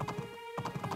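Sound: horse hooves galloping, video game Doraemon Story of Seasons

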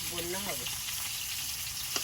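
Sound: kalbose fish pieces frying in oil

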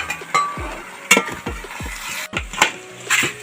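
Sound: stirring chicken masala into duck meat for curry

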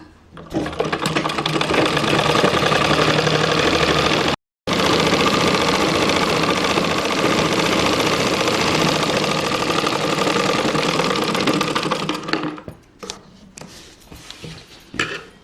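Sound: sewing machine stitching a blouse

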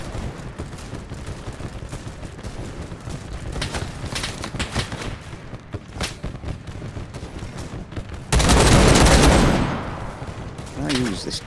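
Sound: gunfire in WWI video game Over The Top

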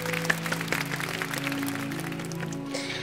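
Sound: applause

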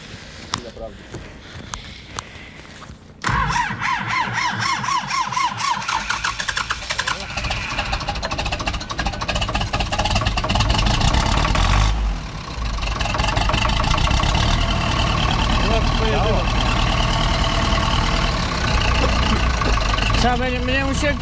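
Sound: Ursus C-360 tractor engine starting and idling

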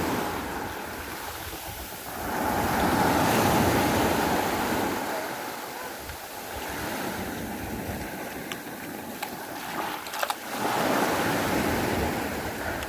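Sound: sea waves

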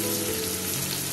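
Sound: ground cumin paste sizzling as it is added to the pan

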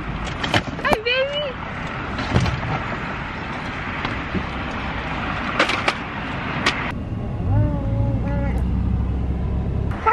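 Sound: car driving

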